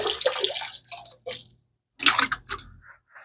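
Water splashes and sloshes in short bursts as blue jelly shrimp are rinsed off, close up, with brief silent gaps between the pours.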